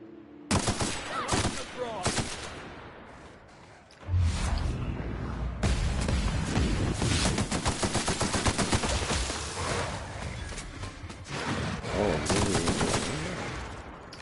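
Heavy-ammo weapon gunfire in the video game The Outer Worlds: a few loud scattered shots, then dense rapid-fire bursts that roar almost continuously, close and loud, with brief pauses between volleys.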